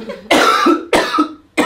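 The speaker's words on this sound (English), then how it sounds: "Sorry, I'm gonna cough." Three sharp coughs in quick succession, close and loud, with brief pauses between them.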